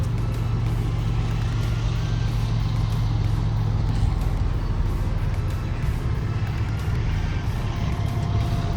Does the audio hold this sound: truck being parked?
yes